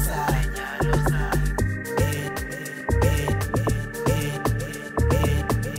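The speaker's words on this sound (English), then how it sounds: "So another thing on this thing is I had to do a chop on his vocals," Chopped vocal samples cut into an amapiano remix built in FL Studio, short rhythmic vocal stabs repeating over a thumping low bass and steady beat, loud and dense throughout with no talking.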